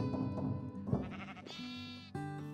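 Several sheep bleat one after another in a sheep-farm building video game, clear wavering cries close by, overlapping and changing pitch, with no talk.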